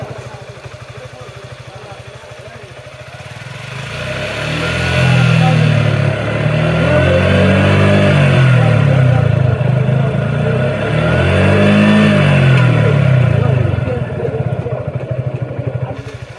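A motorcycle engine in first gear revs up twice in long swells, loud and close over a steady idle, with someone talking briefly alongside.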